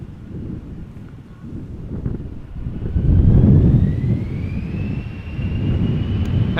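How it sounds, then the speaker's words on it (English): An Embraer 175 jet, five years old, on the move at Amsterdam Schiphol, gives a steady engine rumble that swells in the middle, with a faint rising whine above it and wind buffeting the microphone. "Embraer 175 going to Inverness. Flight 925 on the move."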